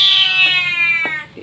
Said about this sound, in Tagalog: Ang ingay ni Meow Meow